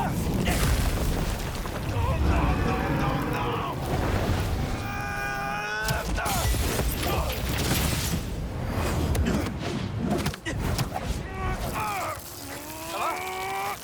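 A deep explosion boom bursts from the Marvel's Spider-Man 2 video game, loud and dense amid continuous game music and effects, with a voice talking through the action.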